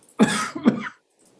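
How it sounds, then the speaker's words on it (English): A person coughs twice in quick succession, close and fairly loud, during a committee meeting, followed by silence. "I thought you were going to get through that without coughing"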